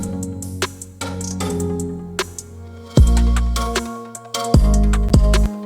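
A riser effect plays within a musical mix in Cakewalk, its second section turned down by 12 dB, among plucked notes and heavy low booming hits that land in a loud rhythmic pattern.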